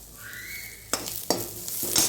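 Chopped onion frying in a pan, a steady close sizzle throughout, with a faint whistle-like tone early on and two sharp clinks of a spatula against the pan partway through.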